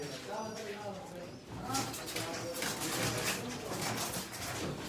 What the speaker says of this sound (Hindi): ये बड़े नवे टेडी कबूतर है